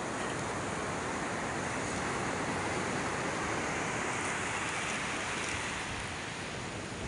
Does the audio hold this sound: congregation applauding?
no